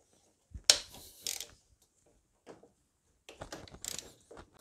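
A socket wrench ratcheting on an oil-soaked E12 Torx bolt: short bursts of clicking pawl noise separated by pauses, close and fairly quiet, with no talk.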